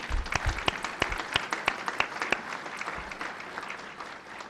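Scattered audience applause at a military change of command ceremony, with distinct individual claps that thin out and fade toward the end, moderately distant and without speech.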